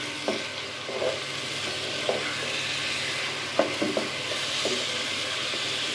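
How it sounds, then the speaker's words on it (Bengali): Rice for pulao fries in a pan with garlic paste and salt: a steady sizzle under occasional scraping stir strokes, close and moderately loud, no voices. "চালটাকে ভালো করে ভাজবো"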